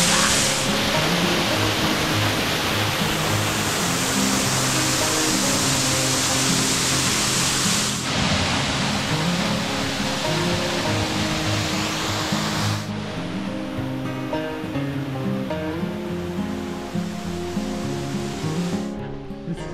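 Roaring Zweribach waterfalls in the Black Forest: a steady, dense rush of falling water fills the whole stretch without a break, close and loud, with no voices.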